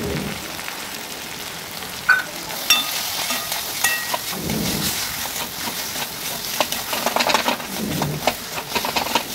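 Ginger-garlic, cumin, chili and turmeric pastes frying in a pan, a continuous close sizzle with crackling bursts and occasional stirring scrapes, with no talk.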